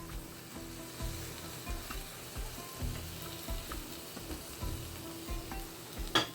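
Ingredients for a home-cooked iftar meal browning in a pan, giving a steady low sizzle with occasional soft stirring bumps and a brief clink near the end, quiet and continuous without speech.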